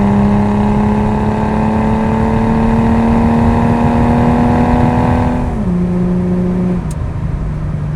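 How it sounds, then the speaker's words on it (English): A 1983 Datsun 280ZX with an aftermarket muffler pulls under heavy throttle, its exhaust note climbing steadily and loud, then a drop as it shifts and carries on at a lower pitch. "So it has a good exhaust note to it when you get heavier into the throttle like that."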